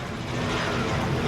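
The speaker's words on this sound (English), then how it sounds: "Helicopters overhead." Helicopters passing overhead near Universal's Endless Summer Resort Dockside Inn pool, a loud continuous rotor and engine roar that holds steady, with no talking.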